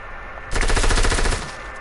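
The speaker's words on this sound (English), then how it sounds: "I'm shooting SMG." A short, loud burst of rapid submachine gun fire in a video game, close up. The burst lasts under a second and fades into quieter game ambience.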